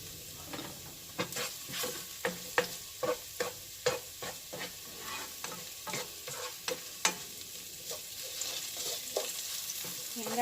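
Beef chow fan fried rice frying in a pan, a steady sizzle broken by a regular run of sharp scraping strikes as a utensil stirs and tosses the rice, close and fairly loud with no talking.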